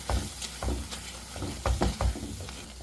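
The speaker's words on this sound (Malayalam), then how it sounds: "ഒന്ന് ഇളക്കി കൊടുക്കാം കേട്ടോ" A spoon stirring a chickpea and potato curry in a pan, giving a handful of close, uneven scraping knocks over a low simmering sizzle.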